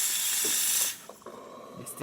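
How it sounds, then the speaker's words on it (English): A DeLonghi espresso machine's steam wand hisses loudly and steadily for almost a second, then cuts off, leaving faint clicks and mechanical sounds. "So right now, steaming perfectly fine."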